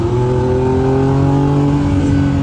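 A 2025 Lamborghini Revuelto in Corsa mode holds a loud, steady engine drone from up close, with strong harmonic tones that climb gradually as the revs build, and no talking over it.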